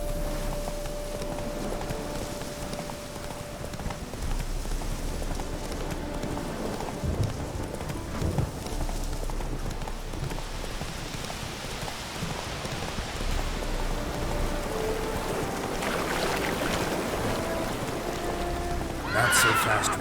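Roach, a horse in the Witcher 3 video game, whinnies amid steady rain with clip-clopping hooves, the game ambience continuous and moderately loud throughout, a brief brighter call near the end.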